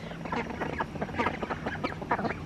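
Baby ducks chatter and quack in a backyard flock, a quick run of close, overlapping calls with a soft rooster-pen hum beneath.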